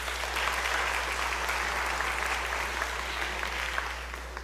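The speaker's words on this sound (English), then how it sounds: "Please give them a round of applause." Steady applause from members and visitors in a state House legislative chamber, an even crowd of many hands clapping continuously, moderately loud with a low steady hum beneath.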